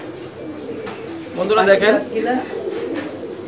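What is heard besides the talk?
pankhi breed pigeons cooing in loft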